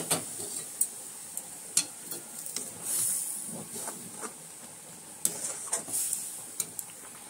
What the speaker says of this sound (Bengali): দিয়ে দিচ্ছি গরম জল